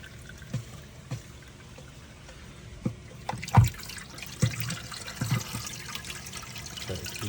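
Water pumped into an aquarium tank set up with a rock scape for pufferfish, a soft continuous trickle and pour with scattered drips and splashes, fairly faint and alone.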